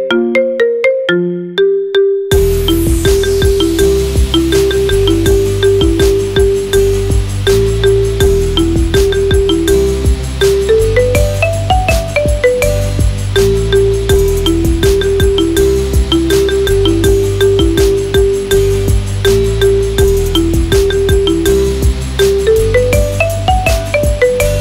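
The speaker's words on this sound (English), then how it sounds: "Make your phone ring with the best ringtone of the year." Marimba remix ringtone, bright repeating mallet notes over a steady beat, loud and alone after a brief opening.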